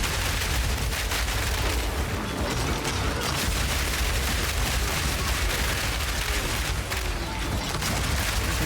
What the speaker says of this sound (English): the grenades will explode on their own